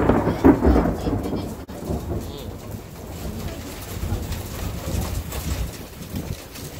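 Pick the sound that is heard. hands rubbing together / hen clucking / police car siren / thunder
thunder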